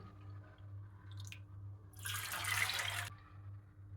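Water pours briefly for about a second into ground yogurt for spiced buttermilk, a splashy rush close by in an otherwise quiet room with a low hum.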